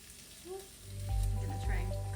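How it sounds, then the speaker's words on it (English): A large chopped onion being stirred into hot oil in a pan for a minced beef and spinach curry, a soft sizzle swelling as the pieces go in, with a couple of heavier stirring thumps close by and a voice talking over it. "I'm gonna try and coat the onions with the oil."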